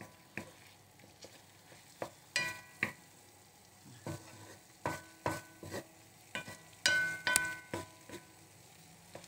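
Mackerel sardines and egg frying in a pan, heard as a steady soft sizzle broken by repeated sharp clacks and scrapes of a utensil stirring, fairly close, with no talking.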